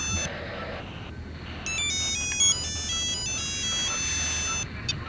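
An electronic phone ringtone plays a melodic series of bright tones over a low background hum, repeating for several seconds with short gaps, heard at a late-night police control room.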